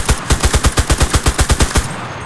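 Automatic gunfire in the Cuisine Royale video game: a steady burst of about fifteen rapid, evenly spaced shots, loud and close, cutting off abruptly near the end.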